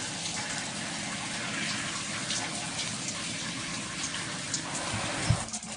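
Running water rinsing hair product out of hair, a steady close gushing flow like a tap or shower, continuous and even throughout.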